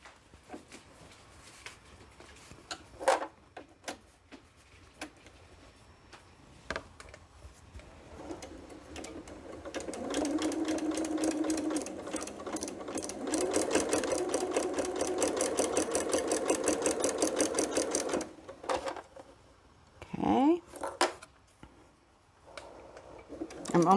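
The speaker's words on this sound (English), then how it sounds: "And then take this to your sewing machine." A sewing machine stitches a quilt hanging sleeve. Quiet handling and fabric rustles come first, then the machine runs in a steady, rapid mechanical chatter for several seconds before stopping, followed by more close handling noise.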